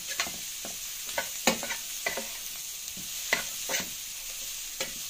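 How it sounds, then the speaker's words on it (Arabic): Black pepper and coriander fry in a pan while being stirred for a dish of chicken liver and gizzards, a faint steady sizzle with soft, scattered scraping stirs and no talking. "اما اتحمر الفلفل الاسمر والكزبرة"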